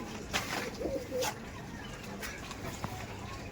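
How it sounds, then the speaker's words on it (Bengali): Tournament-quality Malbayi racing pigeons coo softly in a few low, brief calls in an open loft, faint against steady background noise. "দেখুন পায়রাগুলো কেমন লাগছে, জাস্ট দেখুন।"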